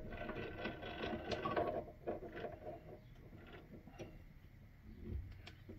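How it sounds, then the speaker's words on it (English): Machine-shop clatter at a lathe as a piece of steel is chucked up, a steady mechanical rattle and whir with scattered metallic clicks, fairly close and continuous, no talking. "Got a piece of steel that we're going to chuck up in the lathe."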